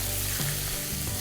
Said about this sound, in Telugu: ఈ నూనెలో మంచి రంగు వచ్చేంత వరకు దీన్ని లైట్గా ఫ్రై చేసుకోండి.